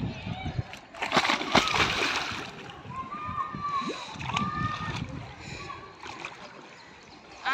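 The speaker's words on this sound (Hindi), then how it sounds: "कूद जाओ पानी में जाके, कूद जाओ, कूदो, मैं भी कूदता हूँ" Water splashing and sloshing nearby as people move and jump into a waterpark pool, with bursts of splashes between stretches of talking voices.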